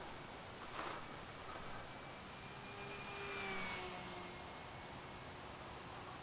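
An XK Edge A430 RC plane cruises at about half throttle, its faint, thin motor whine drifting overhead and swelling slightly as it passes.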